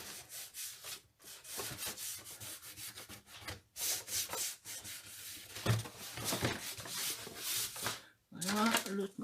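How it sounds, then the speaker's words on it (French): A damp sponge rubbed gently on cardboard in repeated soft strokes, a scratchy rubbing sound in bursts with short pauses, fairly close and quiet. "on frotte juste l'éponge tout doucement, on met pas beaucoup d'eau"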